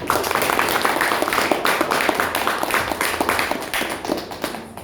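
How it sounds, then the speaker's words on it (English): Applause at a Rotary club meeting in Boise, close and fairly loud clapping from a modest group with a rhythmic, thumping quality, continuing steadily for about five seconds in a small room. "I think we could give him another round of applause."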